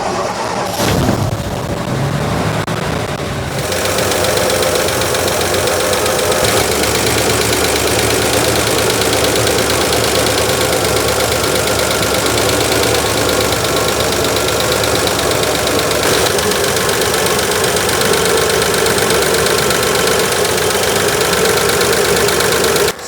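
A 1963 Ford engine idles as it warms up, a steady, loud, close mechanical drone with a ticking, knocking texture that keeps going throughout.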